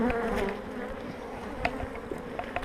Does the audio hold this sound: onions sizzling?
no